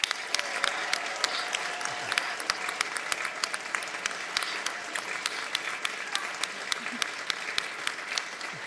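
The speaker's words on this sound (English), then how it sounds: "let's celebrate with another round of applause" A large audience applauds at a vegan event launching "Love Is The Only Solution" in the United States. Sustained, rhythmic clapping continues steadily at moderate distance, with no talk over it.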